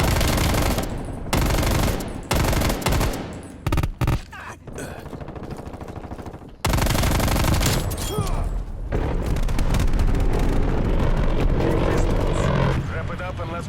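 Machine gun fire from a first-person shooter match, loud and dense bursts with booming explosions, broken by brief gaps, then a sustained heavy rattle of automatic fire running to the end.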